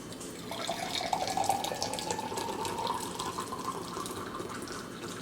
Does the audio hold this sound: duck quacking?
no